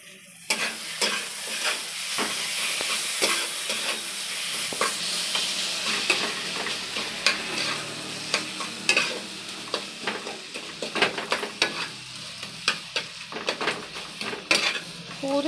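Masala spices fry in a pan for jackfruit curry, giving a bright, continuous sizzle. A utensil stirs them close by with frequent clicks and scrapes against the metal, which grow quicker toward the end, and no one talks.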